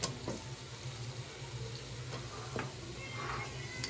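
Bottle gourd frying with spices in a pan, a faint continuous sizzle with occasional light utensil taps and scrapes, close and quiet.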